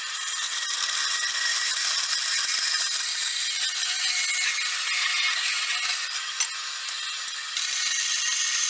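A saw cuts through round copper stock in a forging workshop, a steady hissing, rasping stroke that runs close and continuous with no talking.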